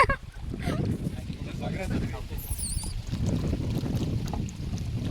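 A country boat's main engine chugs steadily against a headwind through wind noise and water, with people talking nearby over the drone.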